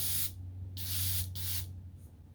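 Red spray paint test-sprayed from a can: three short, loud, close hissing bursts with brief pauses between them, over a low background hum.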